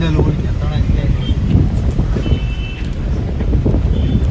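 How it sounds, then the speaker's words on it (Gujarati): Strong sea wind at Diu buffets and roars against the microphone in a steady rush, with faint distant background sounds beneath it. "પવન વધારે છે"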